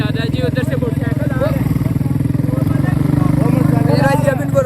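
A motorcycle engine runs steadily and close during a ride along a road, its low throbbing drone continuous throughout, with voices faintly audible over it.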